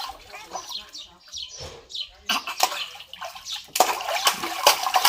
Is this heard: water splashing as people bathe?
yes